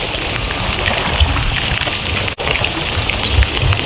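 Heavy monsoon rain falls steadily, a dense, loud hiss of drops hitting surfaces that continues without a break, with no voices.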